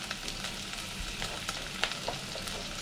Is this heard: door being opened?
no